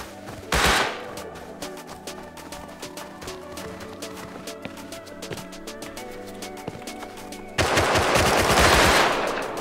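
Rapid bursts of automatic gunfire in the survival game Rust, a steady crackle of shots through most of the stretch with a loud blast near the start and a heavier, denser volley at the end.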